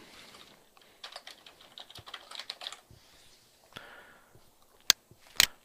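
Someone types a short name on a computer keyboard. Light, irregular key clicks come in bursts, with a few louder taps at the end in a quiet room.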